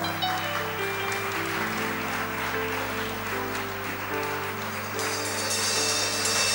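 A standing church congregation claps in acclamation at a worship gathering. The clapping is loud and sustained and sits over steady sustained organ or keyboard chords throughout.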